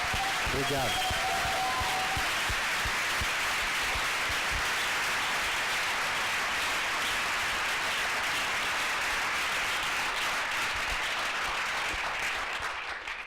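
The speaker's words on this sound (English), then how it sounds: "I'd really like to have a big applause for Giard and for what he has done" Long, sustained applause from a masterclass audience rolls on for over ten seconds as an even, dense wall of clapping that fades slightly at the end. A short spoken word comes near the start.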